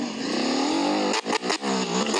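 A motorcycle engine in Roblox drones loud and steady, then revs in a few sharp bursts with short pauses between them.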